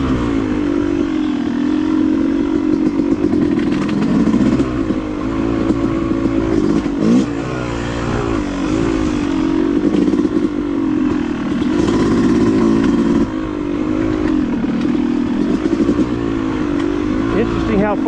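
A Yamaha YZ250 two-stroke dirt bike rides a wet, rocky off-road OHV trail, its engine droning loud and steady with constant throttle changes and the clatter of rocks, heard up close from the rider's position.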